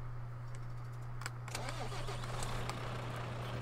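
A green truck's engine cranks and catches in Euro Truck Simulator 2, a low steady hum giving way to a brief starter burst, then settling into a continuous idle, alone with no talk.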